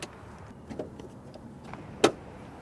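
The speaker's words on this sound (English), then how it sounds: "But let's pop the hood." The hood release of a 2024 Maserati GranTurismo Modena is popped, a single sharp mechanical clunk standing out after a few faint clicks and rustles in a quiet setting.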